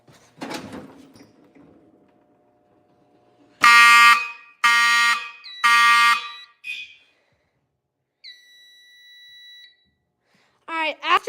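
An electronic fire alarm blares in three loud, evenly spaced bursts, with a softer tonal beep later and brief voices at the start and end.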